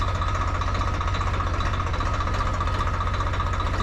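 A Swaraj 855 tractor engine runs steadily on a muddy, rain-soaked road, a close, loud diesel chug with an even low-pitched pulsing throb and no talk over it.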